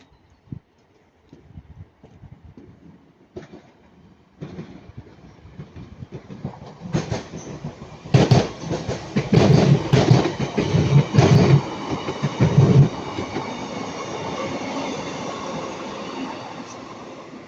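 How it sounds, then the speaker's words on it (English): A pair of Class 156 diesel multiple units pass at Ardwick bound for Piccadilly: faint approach, then a loud rumbling roar with rhythmic clickety-clack of wheels over rail joints, fading into a steady rolling hum. "a Class 156 pairs of Class 156 going to Piccadilly"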